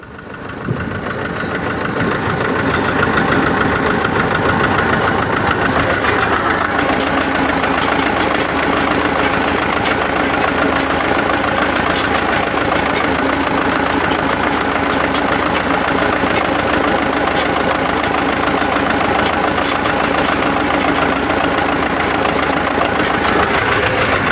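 A mini tractor engine fitted with a sprayer idles steadily and close by, a constant chugging rumble that starts up in the first seconds and holds even throughout.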